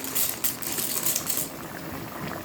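Dry pasta poured into a pot of boiling vegetables and spices, heard as a close, busy rattling clatter over bubbling liquid for about a second and a half, then a softer simmer.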